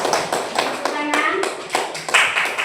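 Schoolchildren in a classroom clapping in unison, a series of loud, evenly spaced group claps in a steady rhythm, with young voices mixed in.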